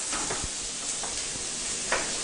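Food cooked over open flame sizzles with a steady hiss, close, broken by a few soft clicks and stirring taps, no talk.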